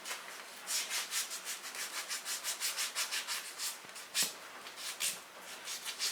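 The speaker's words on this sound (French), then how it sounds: "Ou bien votre ponce traditionnelle. Vous allez le gommer de cette façon." Rhythmic scrubbing of feet with a traditional pumice stone, close-up repeated abrasive rasping strokes at a steady brisk pace.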